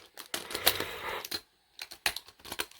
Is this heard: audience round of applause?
no